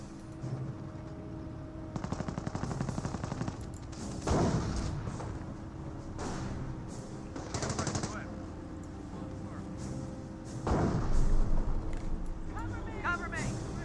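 30 cal machine gun fire in the World War II strategy game Company of Heroes, sustained rattling bursts mixed with other gunfire and thuds while a commentator talks over the battle.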